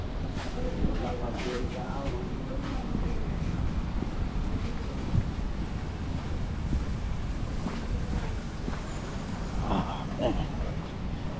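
Ocean waves wash onto the beach at Juan Dolio early in the morning, a steady rushing surf mixed with gusting wind noise on the microphone. Low voices are faintly present underneath.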